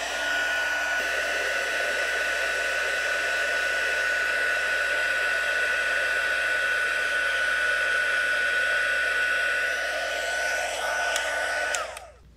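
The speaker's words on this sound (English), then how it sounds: "By the way, this is my Journey heat tool, so you can use this if you have it," A Journey heat tool blows steadily for heat embossing on a card, a constant hair-dryer-like whoosh held close for about twelve seconds before switching off, with no talking.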